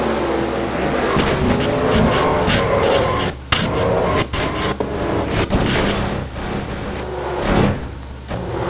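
Race cars crashing in a NASCAR video game, a loud continuous engine roar broken by several sharp impact bangs and scraping crunches as cars wreck in a turn.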